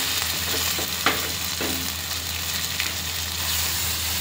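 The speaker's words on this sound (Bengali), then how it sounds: "মশলা দিয়ে তেলে ছেড়ে নিচ্ছি।" Ground spices, poppy seed paste, green chili paste and dry red chili powder frying in hot oil, giving a steady close sizzle with a few sharp crackles and spatters, no voices.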